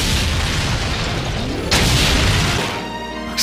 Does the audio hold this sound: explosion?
yes